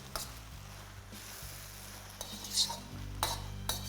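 Chicken chow mein is tossed and mixed in a pan, with scraping and clattering strokes over a low, steady hum and a faint sizzle, the louder clanks coming near the end.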